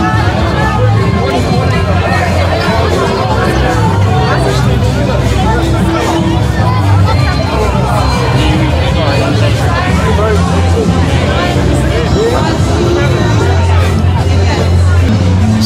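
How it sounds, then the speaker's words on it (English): A large crowd dispersing on Parliament grounds: a steady, loud babble of many voices and general chatter with no pauses, close and dense throughout. "So the crowd's kind of dispersing"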